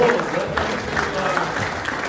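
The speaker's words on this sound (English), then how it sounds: "Let's give him a round of applause" A room of attendees at a spiritual gathering claps to welcome a speaker, a moderate wash of applause from a mid-sized crowd, steady throughout, with a faint voice briefly audible near the start.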